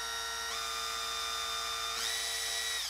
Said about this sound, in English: I'm gonna drill a hole directly under the shank of this jig hook